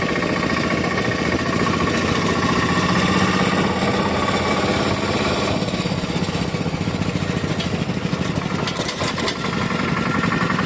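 A tractor engine runs continuously during Republic Day stunts at a school event, a steady loud rumbling chug with no pauses.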